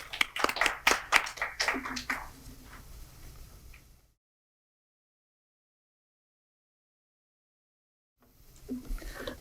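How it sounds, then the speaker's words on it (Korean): Audience applause welcoming a presenter at a tax reform seminar, a few seconds of sharp, uneven clapping that fades into silence, then resumes faintly near the end. "큰 박수로 맞이해 주시기 바랍니다"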